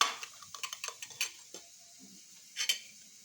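A small cooking pot is set down and handled in a home kitchen while chicken is being prepared: a quick run of light metallic clinks and taps, then a couple of louder knocks, close and alone without talk.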